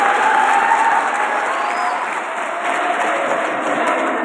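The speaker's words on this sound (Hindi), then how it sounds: "तालियां अपने आप के लिए।" Students at a college career-counselling session applaud themselves, a dense, steady wash of clapping from a crowd that holds at an even level for several seconds.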